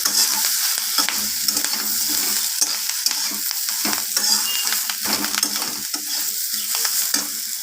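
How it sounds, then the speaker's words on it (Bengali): Spices for a vegetable and fish roe chorchori are stirred and mixed in a hot pan, with a steady close sizzle of frying and repeated scraping strokes of the spoon throughout. "আমি এইভাবে নাড়াচাড়া করে মিশিয়ে নিচ্ছি"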